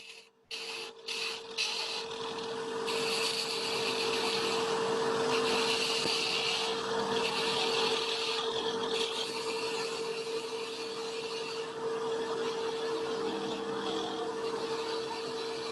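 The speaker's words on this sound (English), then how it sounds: "Choke up here, and I'll get rid of the waste wood." A woodturning gouge removes waste wood from a trembleur spindle on a lathe, a continuous close rasping, whirring cut held steady for over ten seconds after a few short starts.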